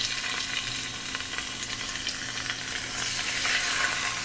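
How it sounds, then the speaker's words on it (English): Seasoned chicken pieces sizzle and crackle steadily in a pan over medium-high heat, a dense, close hiss that holds at an even level throughout with no talking. "You're gonna season the chicken, and then cook till lightly browned."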